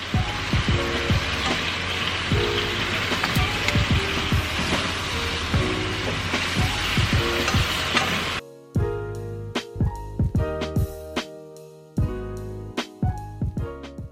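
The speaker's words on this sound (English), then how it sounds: "Here I'm starting my second frying session, and that's going to take about 5 minutes on each side" Oxtail meat frying in a pot for stew, a dense crackling sizzle for the first half, then sharper intermittent pops and spatters, close and fairly loud with no talking.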